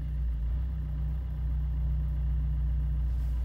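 A car engine idling after its EGR valve and manifold were cleaned, a steady low rumble with a constant hum, close and even, with no talk.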